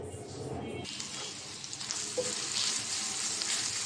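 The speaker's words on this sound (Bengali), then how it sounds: "এটা করলা ভাজি করব।" Bitter gourd fries with onion, green chili and garlic paste in a home kitchen, a steady loud sizzle that intensifies after a brief stir-like shuffle at the start, with no talking.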